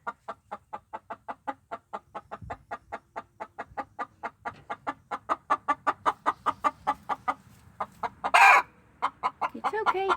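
Hens in a small backyard coop clucking in a steady rapid series of close, rhythmic calls, with a brief louder squawk near the end and light rustling beneath.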